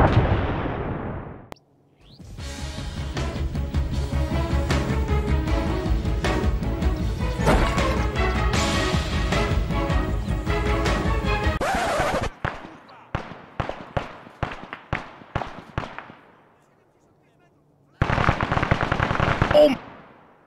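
Arma 3 weapons fire at mines in loud sustained automatic bursts, then a string of separate sharp shots, a short silence and one final burst.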